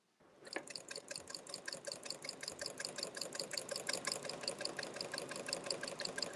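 A sewing machine starts up and stitches steadily, giving a close, even rhythm of rapid ticking beats that hold at a constant pace.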